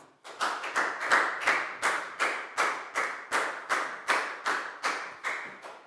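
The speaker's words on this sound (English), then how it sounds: "a big round of applause for Dan, please, guys." Year 4 students in a maths classroom clap together in a slow, even rhythm: about a dozen distinct, sharp group claps, each ringing out briefly before the next, close and fairly loud.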